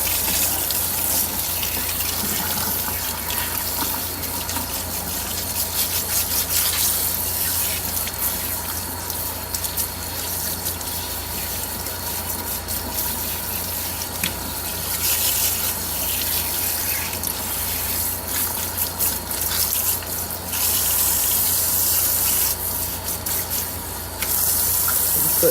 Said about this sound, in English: Rinse the conditioner out of the closure and the whiffs.